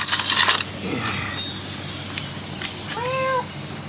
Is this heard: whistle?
no